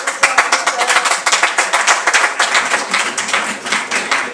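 Dense, sustained applause from a music hall theatre audience, many hands clapping close together in a steady, lively roar with no gaps throughout.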